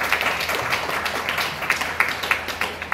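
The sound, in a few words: audience applause welcoming a speaker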